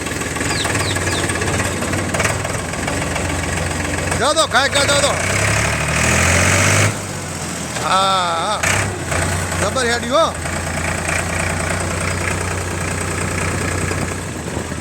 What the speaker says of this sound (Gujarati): ટ્રેક્ટર એકદમ સારી કન્ડિશનમાં એનું એન્જિન છે તો ભાઈ થોડું જવા દો ટ્રેક્ટર કેવું ચાલે છે જોઈએ